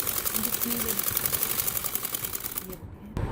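Sewing machine stitching a kundo wali salwar, a fast, even mechanical clatter that runs steadily before stopping abruptly near the end, with a faint voice in the background.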